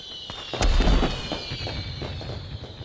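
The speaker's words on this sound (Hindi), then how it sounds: "हमारे पटाखे तो हरे रंग के होने चाहिए थे, इतने रंग बेरंगी नहीं।" Fireworks in a cartoon celebration, one loud burst followed by crackling pops and a lingering rumble, heard alone without talk.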